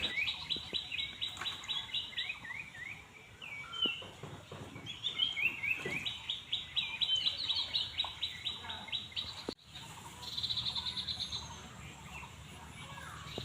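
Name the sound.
birds singing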